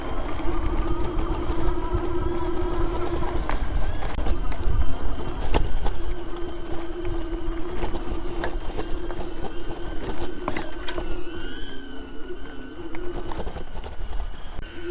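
A Caroma 819W-peak electric scooter with 20-inch fat tires rides in speed mode 3, its motor giving a steady, close whine over rough road and wind noise, with a couple of brief dips and sharp clicks along the way.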